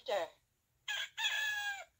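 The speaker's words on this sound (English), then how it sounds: "the rooster continued to yell and rejoice" A rooster crows once, close and clear: a short opening note, a brief gap, then a long drawn-out call lasting about a second, against a quiet background.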